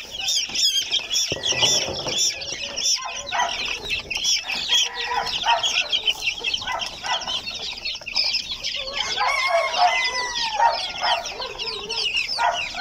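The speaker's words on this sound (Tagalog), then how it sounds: "Kaya ang gandang tingnan pag malalakas kumain ng mga sisiw natin." Week-old chicks pecking at feed, a dense chorus of high chirps and peeps that carries on throughout, mixed with soft clucks and the occasional flutter, fairly close and steady.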